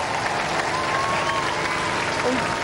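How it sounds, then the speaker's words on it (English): Studio audience applauding steadily after a judges' decision at a robot combat competition, a dense, continuous wash of clapping with faint crowd voices mixed in. "Give them a round of applause, ladies and gentlemen."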